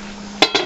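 A lid set onto a pan of Spanish chicken and rice, two quick metallic clanks in close succession over a low background hum.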